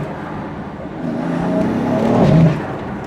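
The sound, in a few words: BMW M3 exhaust pops and bangs while driving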